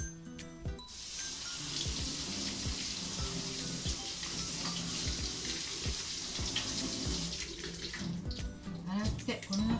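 Salted eggplant rinsed under a running kitchen tap, with a steady stream of water splashing continuously for about ten seconds as the hands move the pieces about, heard up close.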